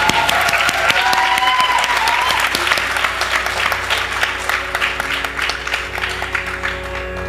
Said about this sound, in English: Can we have another huge round of applause for Mili's performance?